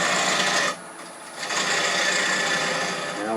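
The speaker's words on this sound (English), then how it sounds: "it's not a bad idea to just relieve a little bit of that excess wood with another gouge" A wood-turning gouge cuts excess wood from a spinning piece on a lathe, giving a loud, continuous scraping hiss that drops briefly before resuming steadily.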